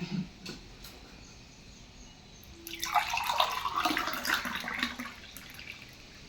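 Carrot juice is poured steadily for a few seconds with a trickling, splashing sound, fairly soft against a quiet background hiss.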